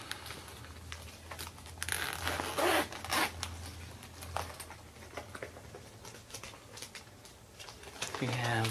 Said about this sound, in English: Zip this open.